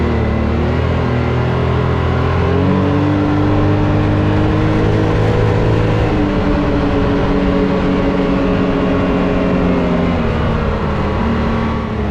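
A Can-Am X3 side-by-side with a spooled front differential drives along a road, its engine droning loud and close with steady whine and rumble that shifts pitch slightly as speed changes, with no voices.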